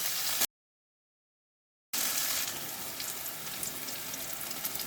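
Bitter gourd slices fry in hot oil with a steady soft sizzle and bubbling, broken by a short gap of silence before the crackle resumes at a low, even level.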